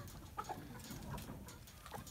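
Laying hens and broiler chicks in a coop lit by a small 12-volt work light give a few soft, scattered clucks over a low, steady room hum.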